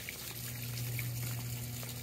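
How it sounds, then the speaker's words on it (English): An outdoor fountain splashes steadily, a continuous wash of falling water with a low hum underneath and no voices. "see how much of this fountain noise these phones pick up over my voice"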